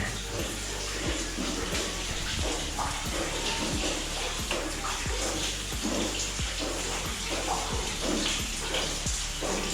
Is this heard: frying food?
no